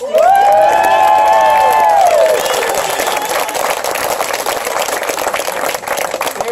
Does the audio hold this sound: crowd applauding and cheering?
yes